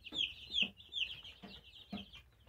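Eight-day-old broiler chicks on a poultry farm give repeated high, thin peeps in quick bursts, fairly close and clear over a faint low background.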